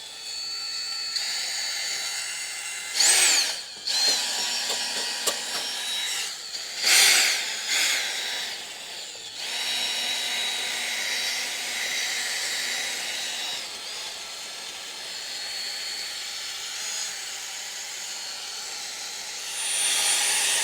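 A power polisher with a buffing pad works over the finish of a Ducati Multistrada V4S Pikes Peak motorcycle, a steady whirring drone with a few brief pitch surges as the pad presses and lifts, close and continuous throughout.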